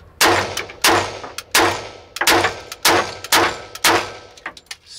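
A SIG Sauer P220 pistol with a short reach trigger fires about eight loud, sharp shots in a steady rhythm, each crack followed by a brief ringing decay.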